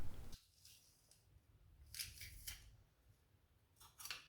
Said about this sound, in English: let's crush in the 2 garlic cloves